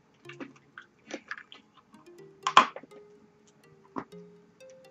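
Chewing hard American candy: wet, close biting and crunching comes in irregular bursts, with one louder crunch partway through, and no talking.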